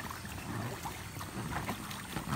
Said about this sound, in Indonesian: Tapi dia tak pandai kayuh, so kita tarik lah pakai tali ni.